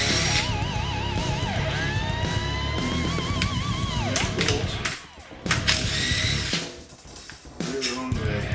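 A ratchet turning the AC compressor bolts on a Gen V LS/LT engine swap in a 4x4 Pontiac Safari wagon: a fast, rhythmic clicking and whirring close up, with short pauses and a few sharper metallic knocks.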